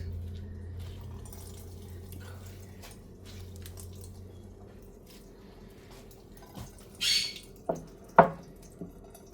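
Faint background hush, then a few distinct drips and small splashes of water wrung from bitter melon by hand near the end, close by and brief.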